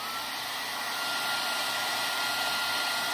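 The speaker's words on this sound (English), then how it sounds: "I'm going to grab my heat gun and kind of see what it does." Heat gun blowing hot air during sublimation printing work, a steady, loud, close rush of air with a faint motor whine that continues without pause and with no talking.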